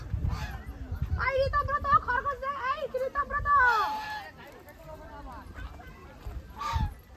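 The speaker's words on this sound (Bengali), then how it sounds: "রাজহাঁস" Geese honk in a busy run of nasal calls at an animal enclosure reached by boat at Mukutmanipur, with a few louder honks standing out over background chatter and crowd noise.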